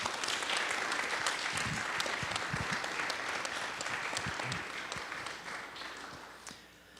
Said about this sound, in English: I think we deserve a round of applause for our rector and for Mother Sarah